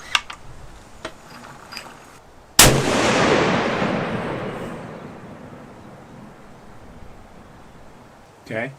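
A Howa rifle chambered in 300 PRC fires a single loud, sharp gunshot on an outdoor range, firing 225-grain factory ammunition; the blast rolls off into a long decaying echo, with faint movement before and after.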